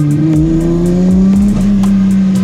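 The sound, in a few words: 1000 hp BMW engine accelerating and releasing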